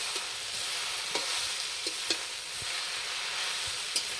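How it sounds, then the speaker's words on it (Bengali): Leaves fry with only salt in a pan, a constant bright sizzle broken by a few sharp stirring scrapes and taps, close and without talk. "আজ শুধু পাতাই ভাজা হচ্ছে, এতে কোনো মশলা থাকছে না, শুধুমাত্র পরিমাণ মতো লবণ ছাড়া।"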